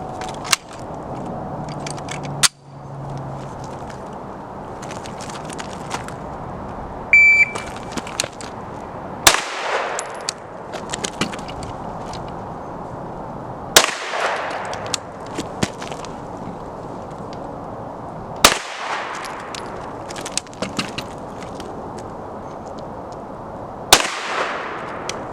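Gunshots from a SIG P320 pistol fitted in an X01 PDW conversion chassis, fired at a target outdoors: a few sharp, loud reports spaced several seconds apart, each with a decaying tail, and no talk between them.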